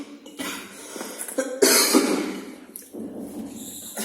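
A person coughs several times in quick succession, harsh and close, with throaty rasping and breaths between bursts, in a quiet indoor room.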